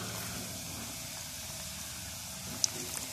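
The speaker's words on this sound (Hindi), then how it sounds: "हमारा ऑयल जो है वो गर्म हो चुका है। हम इसमें जो चिप्स इसमें ऐड कर देंगे।" Potato chips sizzle in hot oil, a steady broad frying hiss that stays close and even throughout, with a small pop near the end.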